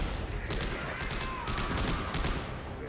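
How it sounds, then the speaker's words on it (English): Rapid bursts of gunfire in the sci-fi shooter Dead Space 3, a fast run of sharp cracks spread across the scene at moderate distance, with a low rumbling game backdrop beneath. "They're shooting at us."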